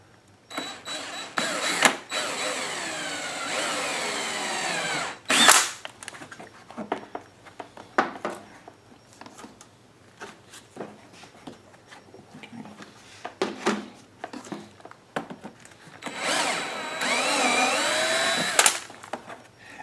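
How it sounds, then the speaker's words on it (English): Step drill bores a hole through a Westinghouse WH3700iXLTc generator housing while an extended-run fuel kit is fitted, giving several loud bursts of whirring and grinding with quieter pauses and handling noise in between. "if you're using a step drill like this, just be careful, don't get going too fast because you don't want to drill the hole oversize."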